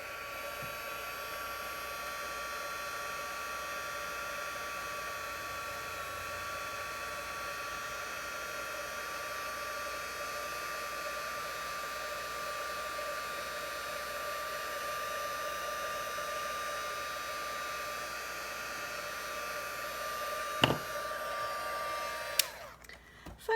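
A heat tool blows a steady, loud whooshing stream of hot air while heating embossing powder, holding constant for over twenty seconds before cutting off with a few handling knocks at the end.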